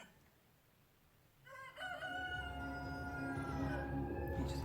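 A rooster crows loudly at a hen farm, a long drawn-out call that rises over a low background murmur of hens and faint rustling.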